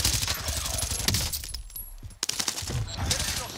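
Gunfire in Call of Duty Warzone: dense, loud crackling shots and impacts fill the opening second, drop away briefly, then resume in sharp bursts, with a voice talking underneath.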